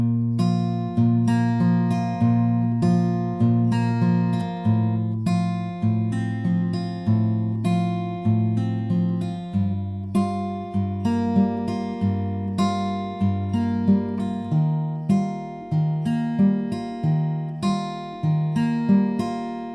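Fingerpicked acoustic guitar plays the verse of a song, a steady rolling pattern of plucked bass notes and chord tones, close and clear, continuing alone for about twenty seconds without any voice.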